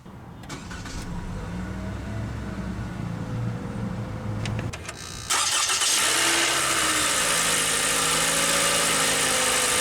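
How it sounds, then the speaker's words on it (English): A 2013 Toyota Camry XLE engine cranks briefly via push-button ignition and catches, then settles into a steady, close idle hum after a few seconds of quiet cabin noise. "let's go ahead and start the engine"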